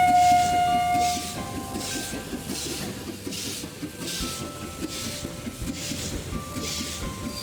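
A steam train in an Android train racing game opens with a short whistle blast, then chuffs along in a steady, brisk rhythm with a light hiss, continuous and fairly loud.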